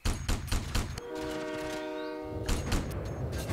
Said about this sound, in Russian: О, поезд продолжает движение.